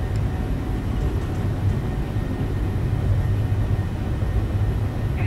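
A Boeing 737's jet engines run at takeoff thrust, heard as a loud, steady low roar and rumble that persists evenly throughout with no voices.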